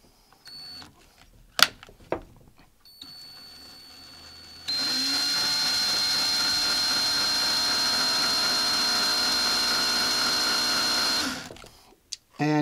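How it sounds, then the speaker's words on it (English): A power drill spins wire to twist a fused Clapton coil, starting with a few short handling noises and then holding a steady, loud whirring drone for several seconds before cutting off. "then I'm going to speed the drill up"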